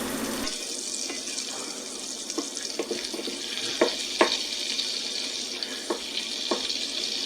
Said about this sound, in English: let's throw our butter in, and let's go ahead and let it melt